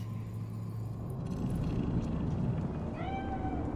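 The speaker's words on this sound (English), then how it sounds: "That cat?" A cat meows in the video game Cyberpunk 2077, a single rising call near the end over a steady low city rumble and ambient game background.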